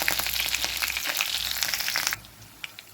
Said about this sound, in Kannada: ಸಾಸಿವೆ ಪಟಪಟ ಅಂತಿರುವಾಗ ಬೆಳ್ಳುಳ್ಳಿಯನ್ನು ಹಾಕ್ಕೊಂಡೆ.